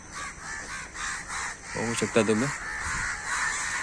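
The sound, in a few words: crows cawing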